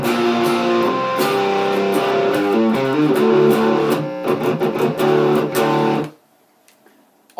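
An electric guitar plays the bridge section of a song with full, ringing chords. The chords change steadily for about six seconds, then the playing cuts off into near silence.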